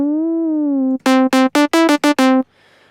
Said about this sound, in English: this relatively simple synth sound